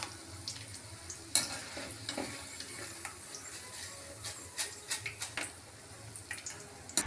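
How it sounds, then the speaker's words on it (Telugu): Onion pakoda deep frying in oil over a medium to high flame gives a steady, moderate sizzle, with occasional sharp clinks and scrapes from stirring scattered through it and no voices. "మనం దీన్ని మీడియం టు హై ఫ్లేమ్లో డీప్ ఫ్రై చేయాలి."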